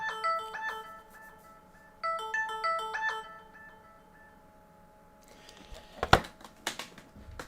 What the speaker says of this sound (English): My phone's pinged.